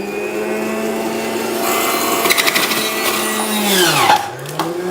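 An electric juicer, the Golden Associates 2475, grinds muskmelon pieces with a loud, steady motor whine that dips briefly as fruit loads it near the end, then recovers; no voices.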